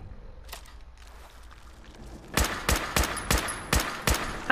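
An alien blaster fires in Fallout 4 in a rapid string of about seven sharp energy shots. The shots are loud and close and follow quieter ambient game noise.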